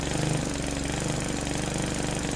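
Lawn mower in a life simulator video game running steadily throughout, a continuous loud rumbling engine drone with a pulsing low chug, no talk over it.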